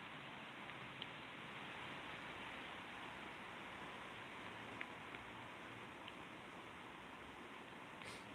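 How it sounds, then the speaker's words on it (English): Steady rain falls outside a 13th-century chapel, a constant soft wash of noise with a few faint taps, heard alone at low level. "You can actually hear it rain."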